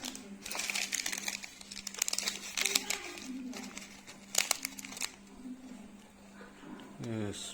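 Plastic packets of Chinese noodles and sauces crinkle and rustle in bursts as they are handled near the microphone, with talk mixed in throughout.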